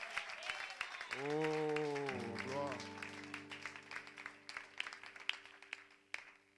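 A church congregation at the dedication of a new temple claps along, a scattered patter of applause running under a man's exclamations and a sustained sung or shouted voice.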